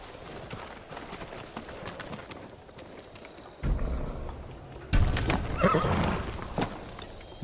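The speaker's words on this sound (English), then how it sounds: "I'm not letting you leave without a good horse." Horse neighing and whinnying in the video game Ghost of Tsushima, with soft clip-clop hooves; the sound is fairly close and grows louder in two bursts toward the end, with no talking.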